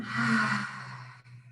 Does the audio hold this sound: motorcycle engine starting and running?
no